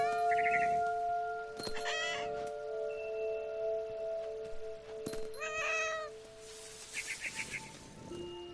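A cat meows several times in What Remains of Edith Finch, clear close cries spaced a few seconds apart over a sustained musical drone, with quick high chirps near the end.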